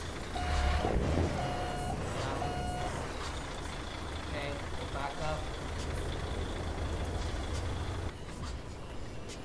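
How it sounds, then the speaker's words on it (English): Custom reversing beeps from a Daimler Freightliner Inspiration truck in Euro Truck Simulator 2, three evenly spaced electronic beeps near the start over a steady engine rumble, with traffic noise and a few air-brake hisses and clicks. "It has a custom reverse noise."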